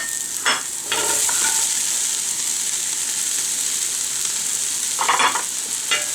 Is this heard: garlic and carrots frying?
yes